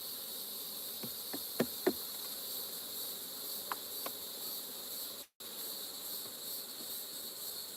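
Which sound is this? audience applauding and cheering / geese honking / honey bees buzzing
honey bees buzzing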